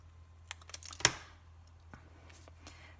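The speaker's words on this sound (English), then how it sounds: "Ordinarily I do this with the trimmer, but you can just do it with some scissors." Scissors trimming a small paper card piece for a handmade tie-dye heart card give a few quiet, sharp snips, one noticeably louder than the rest, with no talking.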